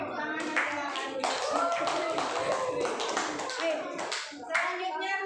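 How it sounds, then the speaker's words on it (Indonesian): Classroom of students clapping hands together for a presenting group, a quick burst of rhythmic, fairly close claps mixed with children's voices talking over and around it. "kita beri tepuk tangan"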